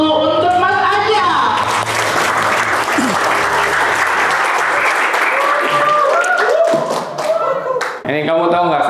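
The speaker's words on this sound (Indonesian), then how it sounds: "Kita beri aplaus dulu untuk Mas Aja." An audience at a talk gives a guest sustained, dense applause that fills most of the stretch, with a speaker's voice heard before and after it.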